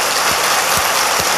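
A church congregation gives a big round of applause to welcome a missionary back from Burkina Faso, a dense, even wash of clapping that fills the short moment.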